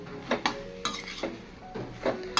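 A spoon scrapes and clinks against a pan while banana flower vegetable and boiled chickpeas are stirred together, a few distinct knocks over a soft frying hiss, close and moderate.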